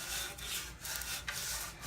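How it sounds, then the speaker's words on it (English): Wood is hand-sanded along the grain in a woodworking shop, a raspy back-and-forth scrubbing with four or five quick strokes, close and fairly quiet. "So when sanding, the biggest thing you need to do, go with the grain."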